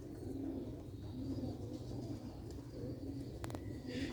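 Pure Sialkoti black-faced pigeons coo in a steady stream of low, rounded calls, close by and repeating throughout with no pause, over a faint background hiss.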